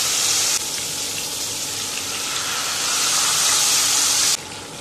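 Fish frying in hot coconut oil in a pan for Kerala fish fry masala, a loud, steady close-up hiss and sizzle that holds without a break, easing slightly near the end.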